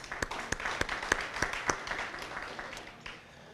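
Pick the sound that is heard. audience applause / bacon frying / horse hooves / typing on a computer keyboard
audience applause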